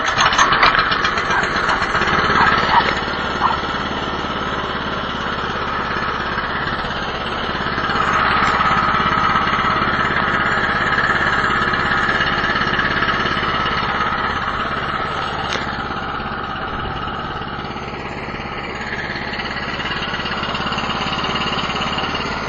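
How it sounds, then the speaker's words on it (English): A Chinese snow blower's small engine, started cold on the choke, runs steadily close by with a constant mechanical drone and a faint clatter, rising slightly at times. "Choke about 1/8 of throttle, and usually it starts on the first or second pull."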